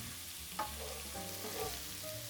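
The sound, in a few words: garlic frying in olive oil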